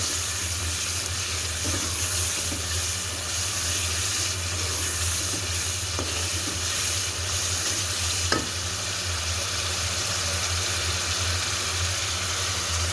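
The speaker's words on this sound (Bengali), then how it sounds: "এখন দিয়ে দিচ্ছি মাংসগুলো সুন্দর করে নেড়েচেড়ে কষিয়ে নেব আদা রসুনের সাথে" Pieces of black chicken sizzle steadily in a hot pan with ginger, garlic, black cardamom, nutmeg and cloves, with a continuous close frying hiss broken by occasional scrapes of stirring.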